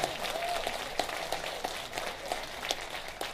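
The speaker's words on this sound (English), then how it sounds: "Let's give them a strong round of applause." Audience applauding the Manhattan College Jazz Ensemble at a Bronx Women's History event, a steady, fairly faint wash of clapping from across the room, with a few sharper claps standing out, continuous through the moment.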